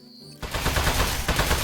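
Rapid burst of gunfire aimed at a metal enemy in the game Aperture Desk Job, starting abruptly after a quiet moment and continuing as dense, loud, rattling shots.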